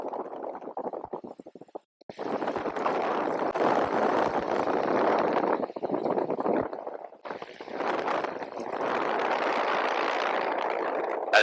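Light airplane engine droning steadily through stall practice, loud and close with broadband roar, one short dip early on, then sustained power with slight fluctuations; no talk.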